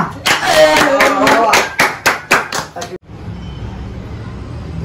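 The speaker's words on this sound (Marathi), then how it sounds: "विनर झाले. टाळ्या टाळ्या." A crowd breaks into bursts of clapping for a winner, loud and uneven, with voices mixed in, before the claps stop abruptly and a quieter room murmur remains.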